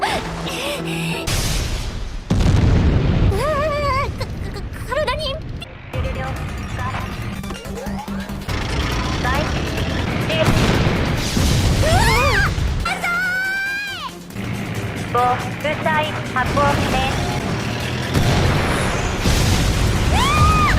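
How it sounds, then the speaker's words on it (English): A weapon blast fired from a robot's arm strikes a hostile machine, an MCV, in a sci-fi film scene: loud booming impacts and crashing bursts under a dense, continuous action score, with screams and effects layered throughout. "She fires a single direct blast that cripples the MCV's firing mechanism"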